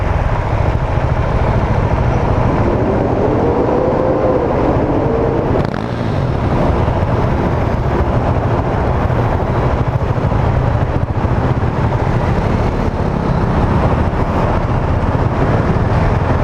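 A 2019 Husqvarna 701 Vitpilen single-cylinder motorcycle engine drones steadily while riding through city traffic, loud and constant with heavy wind rush over the microphone throughout.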